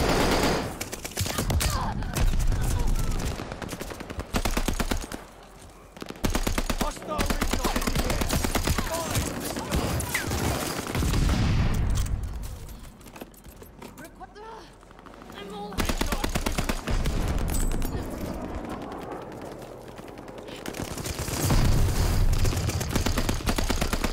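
Rapid automatic gunfire and scattered shots in a Call of Duty Vanguard multiplayer shipment match, loud and nearly constant in dense bursts with brief lulls, while a player talks over it at times.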